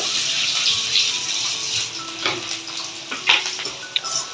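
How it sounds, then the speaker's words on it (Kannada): Onions fry in hot oil, a steady bright sizzle throughout, with a few clinks and stirring scrapes near the end. "ಕಾದಿರುವಂಥ ಎಣ್ಣೆಗೆ ನಾವು ಉಳ್ಳಾಗಡ್ಡೆ ಹೆರ್ಚಿಟ್ಕೊಂಡಿದ್ವಲ್ಲ ಆ ಉಳ್ಳಾಗಡ್ಡಿನ ಹಾಕೋಬೇಕು"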